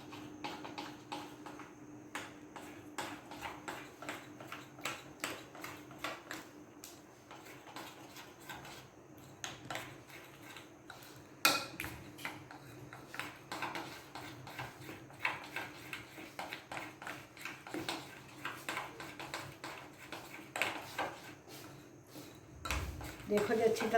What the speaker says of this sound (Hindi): ये जो बचा हुआ दही है वो इसके ऊपर डाल दूँगी। इसको अच्छी तरह मिक्स कर दूँगी।